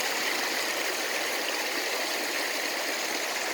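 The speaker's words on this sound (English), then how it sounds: "I became aware of the creek that was flowing through this forest" Creek flowing through a burnt-out forest, a steady, even rush of running water with no other sounds, close and continuous.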